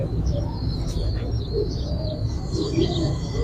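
Bred breeder pigeons at a Rawalpindi loft coo in soft, throaty phrases, with a few faint chirps and a brief wing flutter over a low, continuous background hum, close by and moderately loud.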